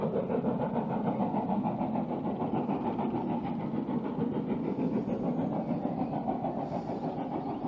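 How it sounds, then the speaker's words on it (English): A Great Western Railway steam train climbs a hill near Paignton, heard as a steady, continuous rumbling chug at a moderate distance with no talk over it. "Listen to that. That's a really beautiful sound. That's the Great Western Railway in a nutshell."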